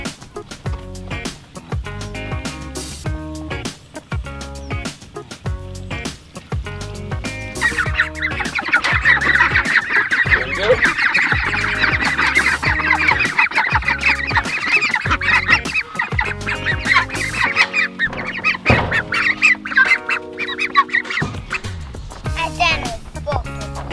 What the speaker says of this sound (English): I'm gonna take the feed to the ducklings as well as to our Jersey Giants.